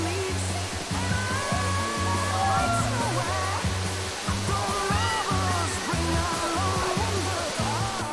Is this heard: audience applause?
no